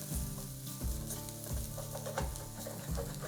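Shallots sautéing in a pan while a venison sauce is started, with a steady sizzle broken by rhythmic stirring strokes roughly every two-thirds of a second, close and moderately loud.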